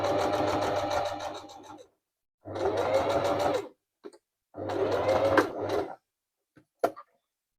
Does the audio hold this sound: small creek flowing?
no